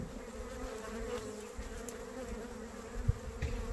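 Honeybees buzzing around a hive, a soft, continuous hum of many insects with a faint thump or two, quiet and without talk.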